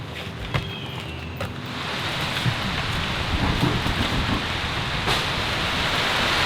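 Steady rain pours onto the Amazon jungle canopy at night, a dense continuous hiss that swells slightly after the first seconds, with scattered drips and a few sharper drops close by.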